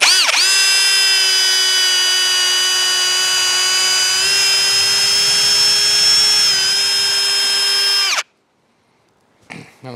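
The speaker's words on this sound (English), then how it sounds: "I'm gonna go ahead and drill a hole" A power drill whines loudly at a steady high pitch for several seconds while drilling a hole in a 2x4, then cuts off abruptly, followed by brief clattering.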